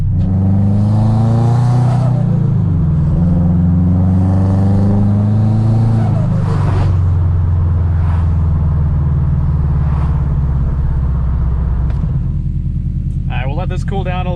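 A Subaru Legacy GT engine revs and accelerates up through the gears in two rising pulls, then settles into a steady, loud drone with a brief rattle near the end.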